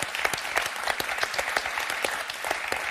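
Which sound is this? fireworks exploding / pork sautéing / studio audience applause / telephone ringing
studio audience applause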